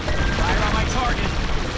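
Starfighter blaster fire in Star Wars Squadrons during a space battle against Imperial shuttles, a steady rapid stream of loud laser shots over engine roar and a dense, noisy battle mix.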